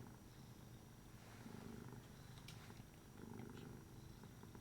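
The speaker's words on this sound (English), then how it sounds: "I can hear Rigel purring." An orange cat purring steadily up close, a soft continuous rumble with gentle rhythmic swells and no other sounds.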